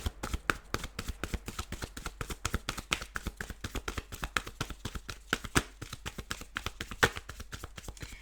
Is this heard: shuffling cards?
yes